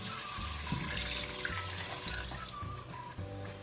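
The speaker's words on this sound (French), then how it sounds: "Là, j'ajoute de l'eau." Water pours steadily into a pan of sautéing vegetables with parsley, garlic and shallot for vermicelli fried rice, a soft continuous splashing rush close by.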